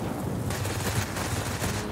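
Aircraft guns in the World of Warplanes combat game fire in a loud, continuous rapid burst while shooting down a fighter plane.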